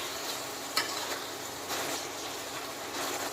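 Tomatoes frying in a pan for spring roll filling: a steady, soft sizzle with light stirring scrapes and brief swells, with no voices over it.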